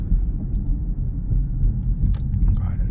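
A 2021 Honda Civic Type R Touring cruising on the road, a steady low engine and road rumble heard from inside the cabin, continuous throughout, with faint talk in the background.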